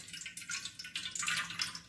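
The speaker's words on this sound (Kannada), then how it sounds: "ಇದರ ನೀರನ್ನು ತೆಗೆದುಕೊಳ್ಬೇಕು." Faint trickling and dripping water, a light irregular splashing as water drains away from washed sago, quiet and close.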